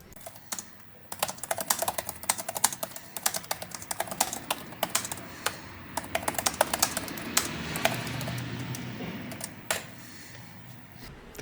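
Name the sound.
typing on MSI GF65 Thin laptop keyboard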